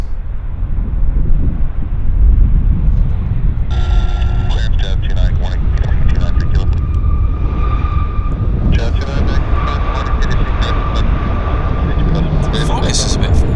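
An airliner lands at Vancouver airport, a loud, continuous broadband roar of engines and rushing air heard from a spotting position with wind buffeting the microphone, with whining engine tones rising midway.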